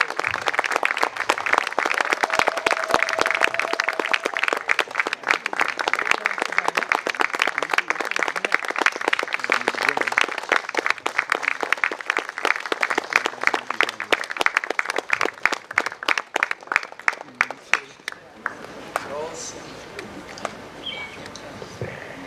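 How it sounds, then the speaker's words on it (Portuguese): An audience at an African Women's Day commemorative event claps continuously as a guest makes her way in, brisk, fairly close applause that thins to scattered claps and fades near the end. "Continuem a bater palmas até ela chegar com a sentida energia"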